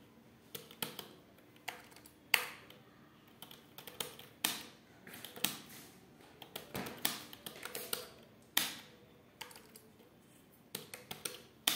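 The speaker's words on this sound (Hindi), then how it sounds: "फिर आप यहाँ से हिंदी लिखना स्टार्ट कर देते हैं" Clicks of a computer keyboard as Hindi text is typed on a Windows 10 PC, coming in short irregular bursts of keystrokes with pauses between, close and fairly quiet.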